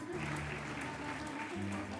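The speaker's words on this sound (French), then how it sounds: "Je vous demande de les applaudir très très fort et de les accueillir ici à l'espace Charles Bringuet" An audience at a company trophy evening in Valence Romans greets guests coming onto the stage with soft, dense applause that carries on steadily at a distance, with faint background tones underneath.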